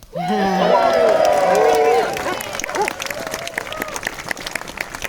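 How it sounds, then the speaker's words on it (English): A crowd at an outdoor rally for wild camping rights on Dartmoor breaks into loud cheering and applause with shouting voices for about two seconds, then fades to a softer scattered clapping and murmur. "So I think I deserve another cheer"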